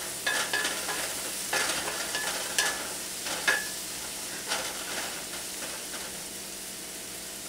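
Spinach frying and cooking down in a pan, a soft continuous sizzle with occasional stirring scrapes and light utensil clicks, close and alone.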